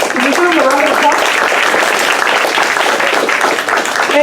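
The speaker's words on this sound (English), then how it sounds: "Can you give them a round of applause?" An audience at a student pesticide reform town hall in a high school gives a loud round of applause. Dense clapping runs throughout and blends with voices and cheering from the crowd.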